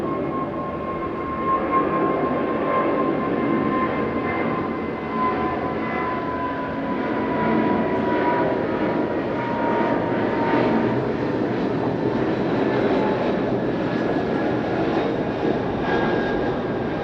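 Fixed-wing aircraft taking off at Okinawa airport, a steady loud engine roar with a rising jet whine that holds throughout, with no voices over it.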